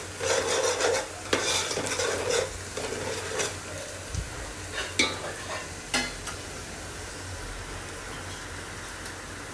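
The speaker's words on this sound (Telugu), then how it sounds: "ఆనియన్స్ ఫ్రై అవుతున్నాయి" Onions sizzle and fry in a pan for crab curry, a steady hissing sizzle with scraping stirs and clinks of a spatula, louder at first, then a quieter sizzle.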